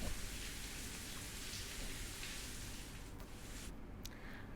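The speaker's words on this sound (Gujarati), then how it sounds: "ખંભાળિયા અને આસપાસના ગામમાં વરસાદ વરસ્યો।" Rain falls on Khambhalia and nearby villages in Gujarat as a steady, dense hiss close at hand, with no voices over it.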